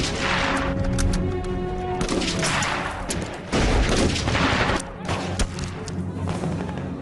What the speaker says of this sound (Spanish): ¡Traiga el fuego de mortero de la reserva,